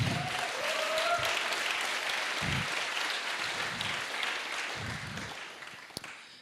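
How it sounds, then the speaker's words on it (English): An audience at an opening ceremony applauds in a steady wash of clapping that slowly tapers, with a few low voice murmurs beneath and a sharp knock near the end. "So applause to everyone."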